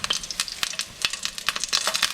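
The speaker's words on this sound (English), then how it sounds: "the oil is still sizzling" Hot oil sizzling and popping in a frying pan before eggs go in for Vietnamese fried rice, a close, crackling spatter of irregular sharp pops over a soft hiss.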